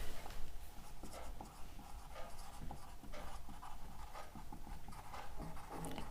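Chalk or marker scratching and tapping across a board in a chemistry lecture on haloalkanes, a steady run of short strokes and squeaks close by with no talking, over a faint room hum.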